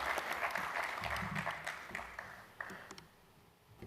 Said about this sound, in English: So a very quick round of applause.